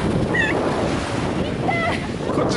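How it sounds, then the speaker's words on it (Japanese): Rough ocean surf washes continuously onto Zushi beach, with wind buffeting the microphone and a few faint voices or calls in the background. "かなり波が激しくなってましたね。"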